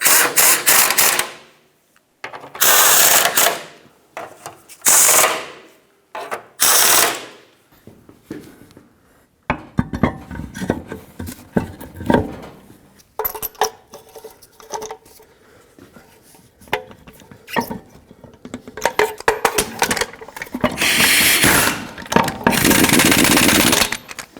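Ratchet tightening bolts on the front shields of a 1996–2002 Toyota 4Runner, with bursts of rapid clicking cranks separated by brief pauses, close and loud, then longer stretches of steady ratcheting.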